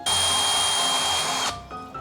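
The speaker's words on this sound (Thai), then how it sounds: "เราก็เจาะให้ มันทะลุลงไปอีกข้างหนึ่งเลยนะครับ" A power drill whines steadily at high speed for over a second while boring through a metal pole, then spins down and stops abruptly, close and loud.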